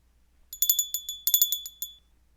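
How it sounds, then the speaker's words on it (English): A small bright bell rings in quick rhythmic bursts, two clusters of clear metallic strokes with ringing overtones, close and isolated against near silence. "The bell invites me."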